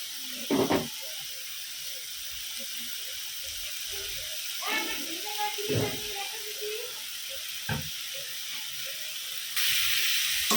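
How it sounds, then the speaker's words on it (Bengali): Jute leaf greens frying in a little oil give off a steady, soft hiss that runs throughout, broken by a few brief kitchen clatters and knocks. "এবার এর মধ্যে একটুখানি তেল দেবো, দিয়ে কিছুক্ষণ ভেজে তারপর তুলে নেবো, তাহলে রেডি হয়ে যাবে আমার শাক ভাজা"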